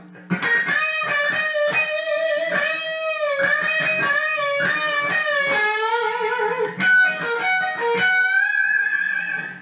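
Distorted electric guitar plays a melodic solo lick, notes bending and wavering with vibrato, some held long, with no voices.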